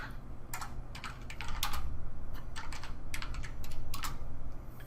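Computer keyboard typing out a search after a Control F shortcut, with crisp key clicks in quick clusters over a steady background hum.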